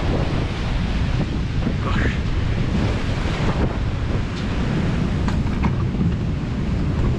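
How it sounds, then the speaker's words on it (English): Strong ocean waves crash and roll onto a beach at rising tide, a loud continuous roar with heavy wind buffeting the microphone throughout. "The waves are coming with a lot of strength"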